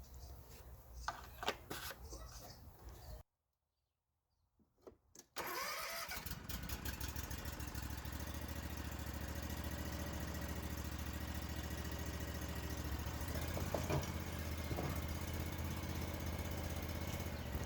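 Some rattling handling noises, a short silence, then a Ferris zero-turn mower engine cranks and catches, settling into a steady, loud idle that continues to the end.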